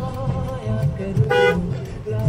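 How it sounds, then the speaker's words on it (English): Busy street traffic in Dhaka rumbles close by, with a car horn sounding repeatedly and one prominent honk in the middle, over a constant motor hum. "This is the traffic of Dhaka"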